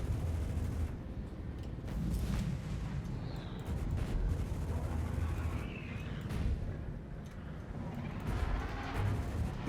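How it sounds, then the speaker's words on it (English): Ship weapons firing during space combat in Star Citizen, a sustained rumbling barrage of heavy booming shots over a constant engine drone, with a few brief whooshing passes, steady and moderately loud throughout. "I'm wasting so many shots."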